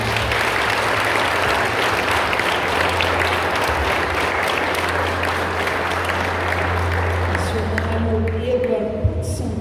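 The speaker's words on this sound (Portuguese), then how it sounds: "Vamos aplaudir o Senhor." A church congregation claps together during a worship service, a dense continuous wash of hands layered with low music and voices, thinning out near the end.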